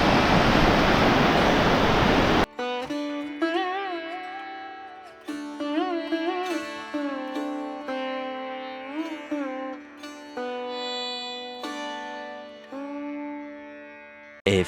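Sea waves at Chandipur beach roar loudly as broad, rushing surf for about two seconds, then cut off abruptly as a musical passage takes over for the remainder.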